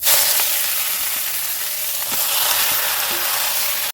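Hot oil sizzles and hisses steadily in a pan as mustard greens are fried and stirred, a close, continuous loud frying sound with faint scrape accents.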